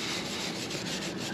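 80-grit sandpaper rubs back and forth on the badly corroded rim of a 2006 Lincoln Town Car Signature Limited, a close, continuous rasping scrape with steady strokes.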